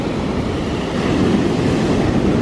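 Large waves hitting the shore at Alanya, Turkey, under an overcast sky, a brief, steady roar of surf that swells slightly midway, with no talking.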